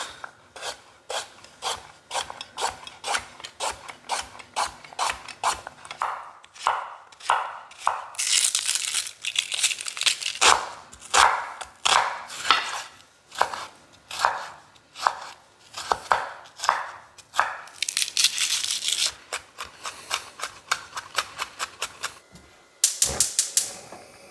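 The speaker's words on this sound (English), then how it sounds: "let's chop the vegetables" Vegetables chopped on a cutting board for a cheap one-pot dinner, a long run of rapid, regular knife knocks close by, with denser scraping and gathering passages in between and no one speaking.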